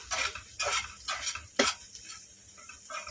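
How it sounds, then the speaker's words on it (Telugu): A spatula scrapes and clinks against a pan in several uneven strokes as ivy gourd is stir-fried, with a faint sizzle underneath. "దొండకాయ ఫ్రై చేస్తున్నాను కదా ఎంతవరకు వచ్చిందో చూస్తాను"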